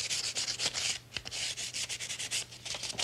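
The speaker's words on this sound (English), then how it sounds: "And then you can sand with some paper." Sandpaper rubs back and forth over an oak dresser in quick, steady strokes, close by, with no talking.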